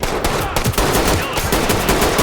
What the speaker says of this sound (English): I had no choice but to mercilessly mag dump him.